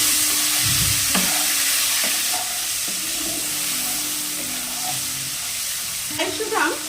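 Tangra fish pieces with salt and turmeric sizzle steadily in hot oil in a pan, a constant close hiss broken by occasional scrapes and clinks of stirring.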